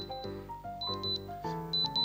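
A series of loud, high electronic beeps in quick repeating bursts, close up, alternating with short tonal chimes from an earbud's find-device alert, no talking.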